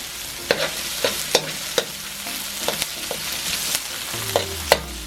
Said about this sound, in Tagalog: Ihulog ang luya sa kawali.